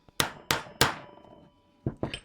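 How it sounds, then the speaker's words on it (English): A brass hammer taps a part of a BSA Lightning motorcycle engine during a rebuild, giving three sharp, ringing metallic strikes at a steady pace, a short pause, then two more quicker taps, close up and clear. "try tapping down from the top. Because I'm using a brass hammer"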